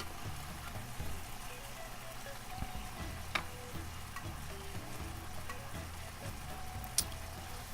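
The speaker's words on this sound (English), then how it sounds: "we've been cooking our vegetables down" Vegetables and onions sizzle in a pan for Cajun shrimp pasta, a soft, steady frying crackle broken by occasional stirring clinks.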